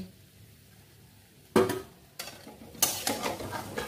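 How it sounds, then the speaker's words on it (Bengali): A spoon scrapes and stirs green chillies into papaya curry frying in a pan, a few distinct scraping strokes over a faint, steady sizzle. "এইবার কাঁচা লঙ্কাটা একটুখানি মিশিয়ে নেব"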